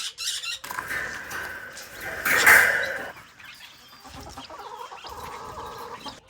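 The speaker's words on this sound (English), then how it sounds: "those are my budding quail that I have to make a coop for" Small button quail call with a few clucking, squealing notes, one louder burst in the middle, close by amid faint background noise.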